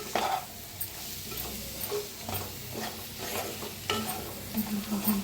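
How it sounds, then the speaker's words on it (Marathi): Chillies roasting in a pan with fennel seeds and spices, stirred continuously: a constant sizzle with repeated scraping stir strokes and light ticks, close and moderately loud, with no one speaking. "आता भाजून घेऊया, मिक्स करूया सगळं।"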